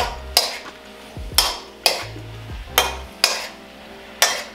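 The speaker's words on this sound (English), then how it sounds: "we'll saute these mushrooms down" A utensil clacks against a pan about six times at an even pace while mushrooms are turned during sautéing, with sharp, close knocks over a quiet background and no speech.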